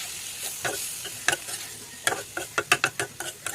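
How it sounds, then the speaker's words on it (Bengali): Small fish fry in mustard oil in a kadai, a soft sizzle beneath a spoon scraping and tapping as it stirs, with the sharp clinks coming quicker and more regular toward the end. "কড়াইতে সরষের তেল দিয়ে দিচ্ছি, তার উপর মাছটা দিয়ে দিলাম, ভালো করে নাড়াচাড়া দিয়ে রাখবেন"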